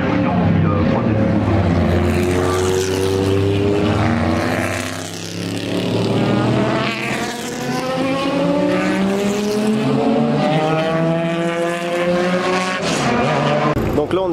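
Race cars scream past at a racetrack near the grandstands, loud engines rising and falling in pitch as they pass one after another, with a brief lull midway and faint voices mixed in.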